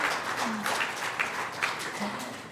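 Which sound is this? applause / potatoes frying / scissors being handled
applause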